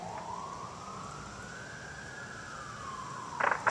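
A fire truck siren wails steadily at a distance, its tone sliding slowly up and back down over a continuous background hum, with a few brief louder bursts near the end.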